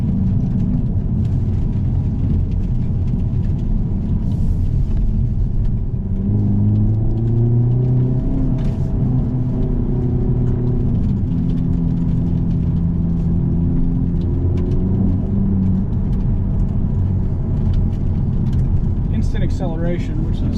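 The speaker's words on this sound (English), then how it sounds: "Definitely loud with the loud exhaust." A 2022 Hyundai Elantra N with DCT and loud exhaust drones and rumbles from inside the cabin while driving, rising in pitch through acceleration, with someone talking over it at times.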